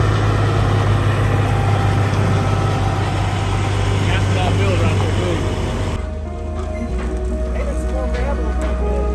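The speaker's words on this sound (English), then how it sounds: "I'm gonna back my trailer up all the way back there" A hot shot truck idling with a rattling, clanking diesel rumble while backing its trailer up on gravel, loud and close, dropping slightly lower partway through.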